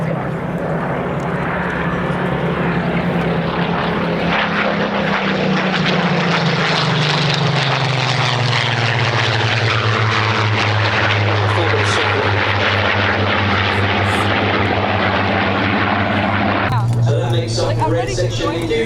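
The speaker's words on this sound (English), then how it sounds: "You'll notice as they come past, the first aircraft is what's called a low-back Spitfire." A loud formation of Supermarine Spitfire propeller fighters sweeps past at an airshow, the engine drone swelling and shifting in pitch as the aircraft go by, with a commentator talking over it throughout.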